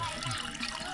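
Clean water flows from a mountain spring in a rural village, a brief close splashing trickle and gurgle.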